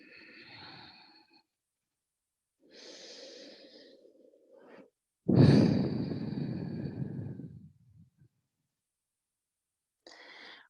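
Slow, deep breaths during a prenatal yoga session, several soft airy inhales and exhales with one long louder exhale in the middle and quiet pauses between.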